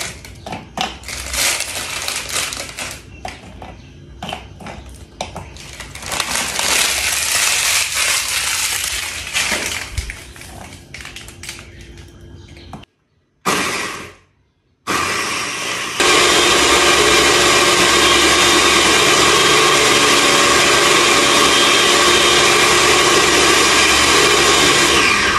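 A blender whirs through Oreo cookies, Marie biscuits and fruit cocktail with loud, rough grinding that pauses briefly midway, then returns as a steady, high, even roar.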